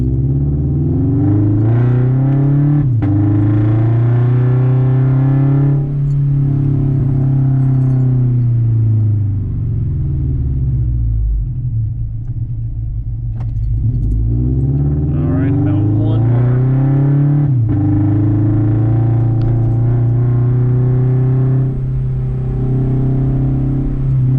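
A Scion FR-S slows from about 35 mph during a brake test on an empty road, its engine note rising and falling in long sweeps over a low steady rumble, with a voice talking over it.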